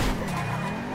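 Sports car in GTA 5, with a loud, continuous engine and exhaust note and tire squeal filling the whole second, close and steady, and no talk.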